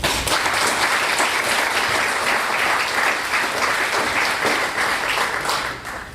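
Sustained audience applause at a University of California, Merced event, a dense steady clapping from a crowd that holds for several seconds before thinning slightly at the end.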